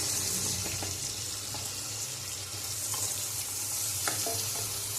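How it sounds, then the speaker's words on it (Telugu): Onions, green chilies and curry leaves roast in a pan for a ridge gourd curry, giving a steady close sizzle with a few soft scrapes of stirring and no talking. "ఈ విధంగా ఆనియన్స్, పచ్చిమిర్చి, కరివేపాకు వేసుకున్నాను. ఇలా బాగా రోస్ట్ చేసుకోండి, కొంచెం బ్రౌన్ కలర్లోకి వచ్చే వరకు."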